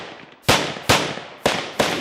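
Four sharp gunshots fired in a special forces training drill, loud and close, each a sudden crack with a short decaying tail, spaced roughly half a second apart.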